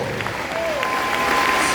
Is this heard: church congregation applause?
yes